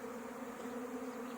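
A bee swarm hums around hive boxes outside a homestead in early spring, a continuous, even buzz holding a steady pitch with no voices.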